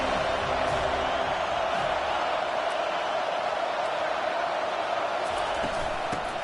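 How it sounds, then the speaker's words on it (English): Stadium crowd noise from a football video game forms a loud, dense and continuous roar that holds steady for the whole stretch. "here comes the noise. This crowd is trying to inspire this defense to make a big red zone stop."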